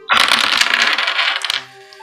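A handful of dice tumbles and clatters across a tabletop during a tabletop role-playing game, a dense rattling burst lasting over a second before settling into quiet.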